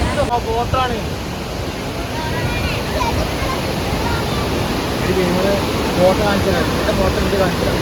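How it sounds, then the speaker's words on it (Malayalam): Water pours through the four opened shutters of Malampuzha Dam, a dense broadband roar heard from a suspension bridge, constant and loud throughout, with a voice talking over it. "മലമ്പുഴ ഡാമിന്റെ 4 ഷട്ടറുകളും ഉയർത്തിയിരിക്കാണ്ട് കേസ്. അല്ല അടിപൊളി നല്ലതായിട്ട് വെള്ളം വരുന്നുണ്ട്."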